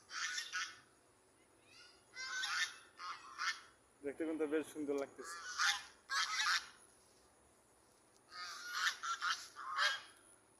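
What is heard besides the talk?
ducks honking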